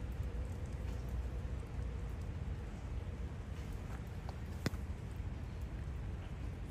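Steady rain falls on a wet street in Futako-Tamagawa on a Monday morning, an even, continuous patter with one brief sharp tap partway through.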